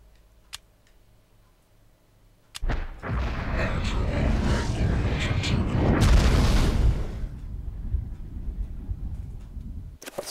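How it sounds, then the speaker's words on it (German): A big explosion in Eternal Darkness: Sanity's Requiem bursts in suddenly as a loud, broad roar that swells for several seconds, then fades into a lingering rumble and ends with a sharp click. "Das war eine fette Explosion oder sowas"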